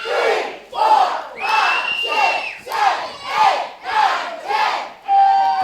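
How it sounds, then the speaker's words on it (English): Wrestling crowd at a televised Thanksgiving show chanting a count in unison, loud rhythmic shouts evenly spaced about every two-thirds of a second, with a whistle-like tone riding over part of it. "The crowd can count to 10."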